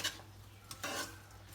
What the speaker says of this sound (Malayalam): നമ്മൾ അതുകൂടെ ഇതിനകത്തിട്ട് മിക്സ് ചെയ്യുകയാണ്